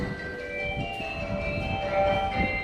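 A subway train rumbles during the morning commute, with a steady low rolling drone and a faint high electrical whine. It stays moderately loud and continuous, with no talk over it.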